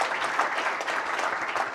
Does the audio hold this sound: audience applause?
yes